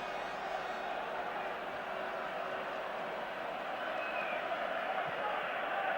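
Dense crowd roar of about 8,000 West Ham supporters in full voice behind the goal at a football stadium during the 1976 Cup Winners Cup Final against Anderlecht, a steady, sustained wash of massed singing and chanting throughout.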